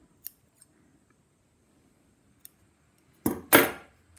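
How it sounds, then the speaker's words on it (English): Scissors snip residual wool thread off a punchneedle piece in two sharp, close cuts near the end, after a few faint small ticks in an otherwise quiet room. "snip off the residual."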